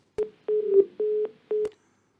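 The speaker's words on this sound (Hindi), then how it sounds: "तो प्रेम सिंह बुटोला जी से संपर्क टूट गया है।" Telephone line tones as a call drops: four short, evenly spaced beeps of one steady pitch, clear and isolated against silence.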